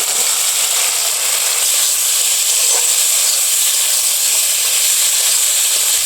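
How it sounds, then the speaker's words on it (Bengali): Fried jackfruit pieces dropped into a spice paste in a pan, producing a loud, continuous sizzle and hiss that stays steady throughout. "এবার আমি এঁচড় ভাজাগুলো দিয়ে দিচ্ছি"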